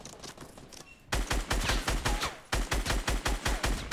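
Fortnite gunfire arrives as rapid bursts of sharp, punchy shots in a fast regular rhythm, loud and close. A quieter stretch at the start leads into two sustained volleys, with no talking.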